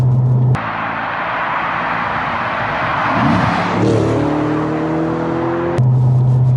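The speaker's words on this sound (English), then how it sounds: "The engine." An Audi RS4 B7, a mid-2000s four-wheel-drive performance car with a V8 engine, roars steadily from inside the cabin, its revs climbing with rising harmonic tones toward the end and cutting off abruptly.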